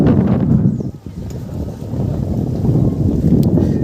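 A passenger boat on the Raimangal river, a close, low rumbling drone of the motor with wind noise over the microphone, steady and fairly loud throughout.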